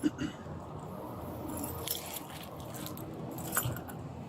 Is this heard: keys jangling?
yes